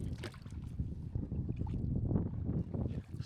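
Canoe paddling across Lake Rogen in Sweden, soft irregular water splashes and paddle strokes mixed with wind buffeting the microphone, faint and close.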